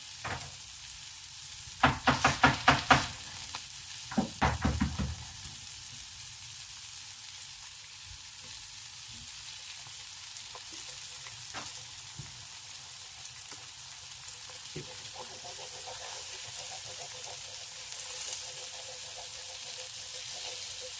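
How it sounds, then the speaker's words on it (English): An egg sizzles in a pan for Pad Thai while being stirred quickly, with a cluster of sharp scraping, crackling bursts in the first few seconds that give way to a quieter, steady frying hiss. "Have an egg and a pan, stir quickly and stable."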